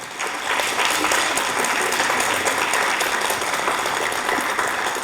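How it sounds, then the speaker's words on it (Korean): Audience applause at a city sustainable development goals declaration ceremony in Hwaseong, a steady, dense clapping that holds loud and even for the full stretch with no voices over it. "여러분 큰 박수 부탁드리겠습니다."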